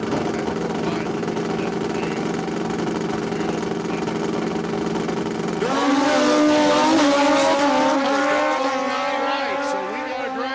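Drag racing motorcycles at a dragway idle with a low steady engine drone, then rev hard and launch into a loud rising roar that fades down the quarter-mile track.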